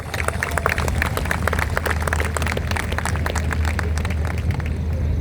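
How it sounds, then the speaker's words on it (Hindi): An audience at the RCM Rupantaran Yatra gathering in Bhilwara claps loudly for actor Ashutosh Rana, a dense, sustained applause of many hands with sharp individual claps close by throughout. "एक बार आशुतोष जी के लिए बहुत जोरदार तालियां चाहता हूँ"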